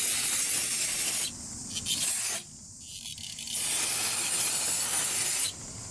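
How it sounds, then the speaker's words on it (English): Aerosol brake cleaner sprayed into Yamaha Raptor quad parts to flush out metal shavings, a steady close hiss in long bursts with short pauses between them. "we just got done spraying this all out with some brake cleaner"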